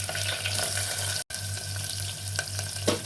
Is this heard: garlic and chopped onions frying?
yes